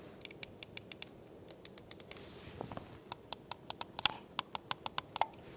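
Side buttons of a Glorious Series One Pro mouse clicked repeatedly in quick bursts, sharp light clicks close to the mic against a quiet background, with a short softer pause partway through.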